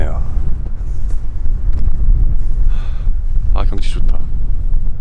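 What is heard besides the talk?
strong wind blowing on Gulupdo island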